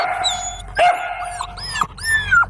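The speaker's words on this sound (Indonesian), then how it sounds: "Ada seekor anjing" A dog barks and yips several times up close, short sharp bursts mixed with whimpering whines, loud and clear with no voices.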